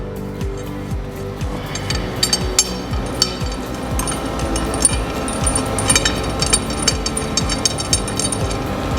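A nut and washer are worked off the bottom of a Morehouse UCM during setup, giving a string of close metallic clinks, taps and ratcheting clicks at an irregular pace over a low background rumble.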